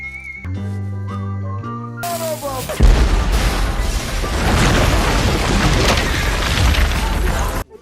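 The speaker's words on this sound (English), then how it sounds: "Not a Tarantino film without a massive explosion or action scene" A scene from the film Django Unchained opens with sustained whistling tones, then a massive explosion erupts into a loud, roaring rumble that carries on through the rest.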